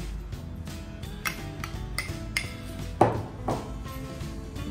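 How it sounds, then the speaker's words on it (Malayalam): Cornflour is moved into a bowl in a kitchen, with soft clinks and taps of a spoon and dish, one sharper knock midway, close and quiet over faint background hum. "നമുക്ക് ആദ്യം ഈ കോൺഫ്ലവർ ഒരു പാത്രത്തിലേക്ക് മാറ്റാം."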